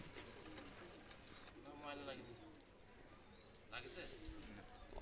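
Two Pakistani pigeons are let go, and soft coos sound close by over faint background noise, recurring a few times across the moment.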